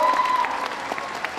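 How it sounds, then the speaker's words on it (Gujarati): An audience breaks into brisk applause at a 2010 Navratri prize announcement, a dense wash of clapping close by with a brief thin tone at the start. "તાળીઓ."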